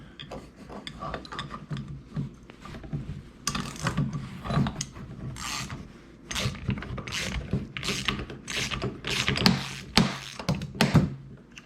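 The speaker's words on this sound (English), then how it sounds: "all I'm gonna do is take my 9/16 socket and pop this out of here" A 9/16 socket wrench works a bolt on a boat trailer winch, giving clicking ratchet strokes and metallic clunks in irregular bursts, close and fairly loud, with no talking.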